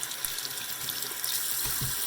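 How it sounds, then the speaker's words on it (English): A tap running moderately hot water into a sink, a steady splashing hiss of water with small gurgles and spatters, close and continuous throughout with no talking. "I'm going to run the water moderately hot"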